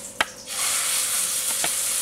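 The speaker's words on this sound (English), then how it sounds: "pan fry the pork fillet" Stuffed pork fillet searing in a very hot pan, a sharp hiss swelling after a brief clatter and settling into a steady, close sizzle with a few faint taps.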